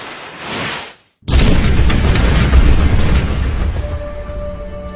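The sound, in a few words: cannon blast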